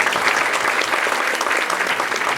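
A church congregation claps together at a Christmas service, with dense sustained applause, loud and even, filling the whole stretch without pause.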